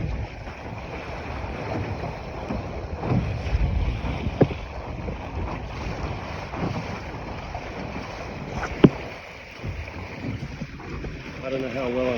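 Sunfish sailboat hull slapping against small waves while under sail, a steady wash of water and wind noise across the microphone with a few sharper slaps standing out, one clear hit near the end.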